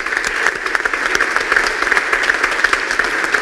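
An audience at a tuition equity celebration in Massachusetts breaks into steady, dense applause, many hands clapping loudly and evenly throughout with no pause.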